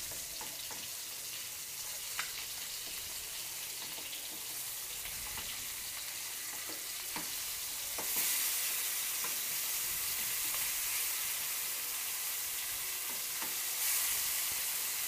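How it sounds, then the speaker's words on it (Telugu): Andhra-style fish pieces sizzle in hot oil in a pan, a steady crackling hiss that swells louder midway as a piece is turned over, with a few utensil taps and no voices. "ఇప్పుడు ఒక సైడ్ కాలిన తర్వాత మెల్లగా ఇంకో సైడ్ తిప్పుకుందాం"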